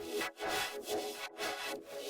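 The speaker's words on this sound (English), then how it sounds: "Yeah, that trance gate effect." Trance-gated synth in an electronic production, a bright dense pad chopped rhythmically into pulsing bursts with brief dropouts, steady and close with no voices.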